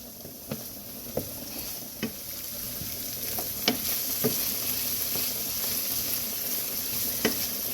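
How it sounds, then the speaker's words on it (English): Vodka sizzles steadily in a hot pasta pan as it cooks down, a constant hiss broken by occasional soft taps and stirs of a utensil, close and without talk. "This is where you would be adding in a 1/2 cup of vodka. We're going to let that cook down for a minute."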